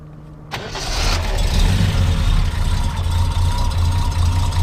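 A cold 1968 Triumph TR250 engine cranks briefly, catches with a sharp burst and settles into a steady, loud, close idle that runs on without talk.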